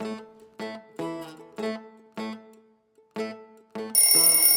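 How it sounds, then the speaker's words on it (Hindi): A mobile phone rings loud and close in a repeating melodic tone, seven evenly spaced bursts followed by a brighter, denser ringtone section at the end, with no voices. "तेरा फोन बाजन लाग रहा है, ठा ले।"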